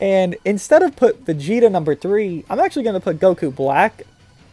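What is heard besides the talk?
No everyday noises stand out.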